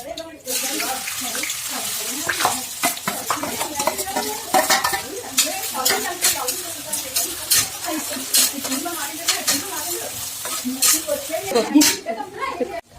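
Sliced onions and green chillies frying in hot oil in a pan for a homemade noodle dish, with steady sizzling, clinks of a stirring utensil against the pan and scraping throughout, close and fairly loud, with a voice talking now and then.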